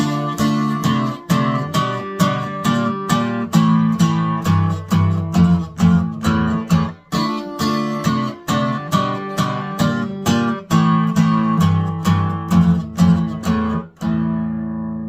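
A plucked, strummed guitar plays a bright, rhythmic intro with steady chord hits and a repeating pattern, loud and close, no voices.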